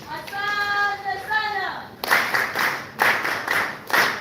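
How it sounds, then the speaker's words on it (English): An audience at a UNSA Kampala annual general meeting and elections bursts into hand clapping after a brief sustained voice, with several loud swells of applause that rise and fall through the rest of the clip. "And you clap for yourselves."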